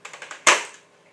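A toy blaster gun fires once with a loud sharp crack, preceded by a few quick light clicks of the mechanism.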